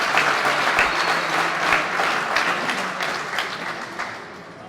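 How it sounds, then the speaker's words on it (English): Spectators at the 2019 All-Ireland 4-wall men's handball final applaud after a rally: sustained crowd clapping that swells early, then gradually fades toward the end. "A round of applause for both players."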